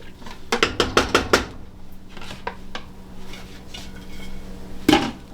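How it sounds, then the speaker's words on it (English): Ripe plantain stirred into a boiling St. Lucian kingfish one-pot, with a quick run of five or six loud metal-spoon clanks against the pot, then a low simmering bubble and one more clank near the end; no talk. "Mix it in there to boil up."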